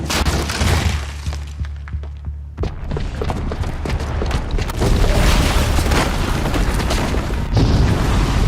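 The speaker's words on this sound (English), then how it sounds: "the booby trap on the bomb downstairs is gonna get set off" A bomb booby trap goes off in the video game Horizon Zero Dawn: a loud, heavy blast with crashing, shattering debris, then a sustained rumbling roar that swells and stays loud, with no talk over it.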